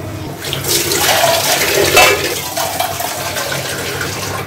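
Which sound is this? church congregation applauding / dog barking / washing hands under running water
washing hands under running water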